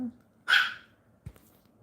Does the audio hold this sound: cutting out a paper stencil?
no